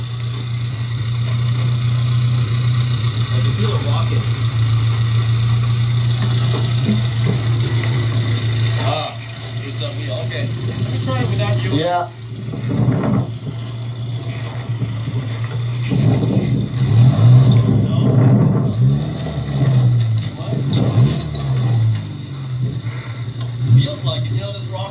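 A vehicle stuck high-centered on an old railroad route along the Eel River, its engine droning and revving as wheels spin without traction, a low steady hum under frequent talk from people inside.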